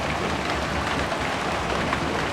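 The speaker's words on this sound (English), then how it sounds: "It was absolutely pouring down rain." Heavy rain pours steadily during a summer thunderstorm, a dense, loud, continuous hiss heard from a sun porch beside a community garden, with no voices.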